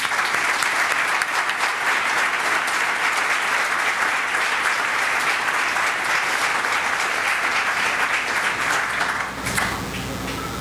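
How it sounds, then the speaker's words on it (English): A crowd at a startup accelerator investor day applauds its graduating cohort in a dense, even wash of clapping that holds steady for about ten seconds before thinning slightly at the close. "Everyone please give them a round of applause."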